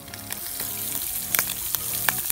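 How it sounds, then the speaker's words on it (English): Kielbasa frying over a campfire at a trail lunch stop, a close, continuous crackling sizzle with sharp pops and spits scattered throughout, no voices. "Got the kielbasa cooking"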